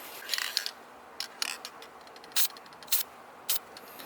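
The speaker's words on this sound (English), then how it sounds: "I'll spray it on this car real quick" Anti-corrosion spray hisses onto car battery terminals in several short close bursts with small mechanical clicks between them, alone without talk.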